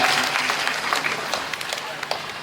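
A crowd at an election campaign event in Vadakara applauds to welcome KK Shailaja, a burst of close, dense clapping that thins and fades slightly, with a speaking voice running underneath.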